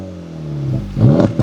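Exhaust of an Acura Integra Type S with its valves always open, revving up hard in a short rising burst; the roar swells to full loudness after a steady idle drone.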